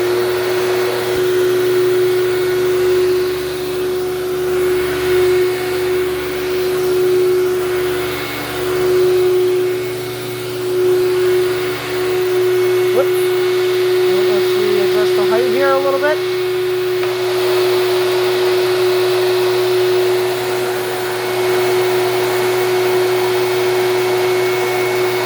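A Dirt Devil vacuum cleaner runs on carpet with a loud, steady motor whine and hum, shifting slightly in tone as it moves, while a person speaks briefly over it.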